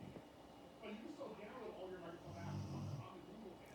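A dog snores close by, low rumbling breaths rising and falling at a slow rhythm, fairly quiet.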